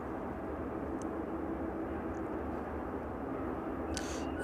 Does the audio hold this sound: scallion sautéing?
no